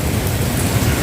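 Heavy rain pours down in a loud, dense, unbroken roar of water on surfaces, close and steady throughout the short stretch.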